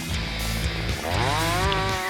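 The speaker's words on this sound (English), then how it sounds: "it's a 372 XP Husky chainsaw" Husqvarna 372 XP chainsaw bucking logs, its engine snarling steadily at high revs, dipping briefly as the chain bites into the wood and then climbing again, loud and close with no talk.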